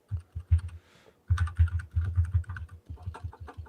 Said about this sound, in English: you pound on your keyboard, man. I can hear you.